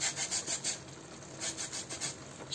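Lemon peel is rubbed against a grater for zest, a series of short, close rasping strokes in an uneven rhythm, quiet and without talk.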